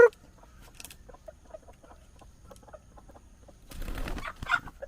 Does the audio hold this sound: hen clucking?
yes